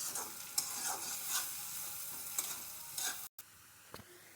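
Frying in a pan while cooking a village-style small fish and taro curry, a continuous close sizzle with repeated scraping stirs, briefly cutting out near the end before resuming quieter.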